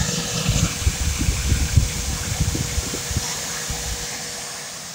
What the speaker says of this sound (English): go ahead and vacuum more here